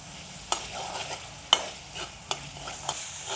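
Garlic chutney fries in hot oil, a soft steady sizzle broken by sharp clicks and scrapes of a spoon stirring the pan at irregular intervals.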